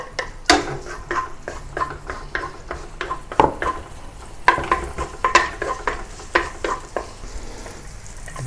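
Ginger stirred in a clay pot over heat, an oily sizzle under repeated scraping and clacking strokes of a utensil against the pot, close and moderately loud in an irregular rhythm.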